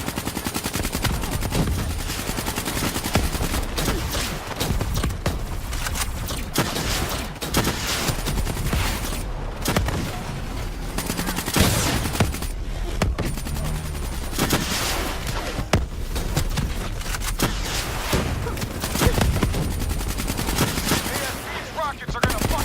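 Sustained automatic gunfire and heavy bursts in Call of Duty: Black Ops 3 on PlayStation 4, loud and nearly continuous with brief pauses, mixed with game effects and occasional voices.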